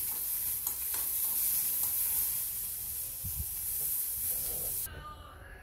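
Tomatoes half-frying in hot oil in a pan give a steady, close sizzling hiss with faint stirring scrapes, cutting off abruptly near the end.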